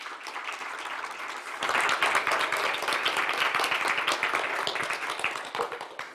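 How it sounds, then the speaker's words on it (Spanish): Audience applause after a conference talk on STEAM education in primary classrooms, a dense crowd of clapping hands that builds quickly and holds steady, loud and continuous with no talk. "agradecemos entonces a Belén con un fuerte aplauso"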